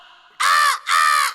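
A voice imitates a crow, giving two loud, harsh, nasal caws in quick succession, close to the microphone in a comedy sketch.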